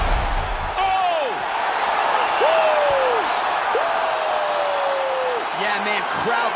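Crowd roars and cheers in EA Sports UFC 4 after a knockout punch ends the fight, a loud sustained swell throughout with the commentator's voice over it.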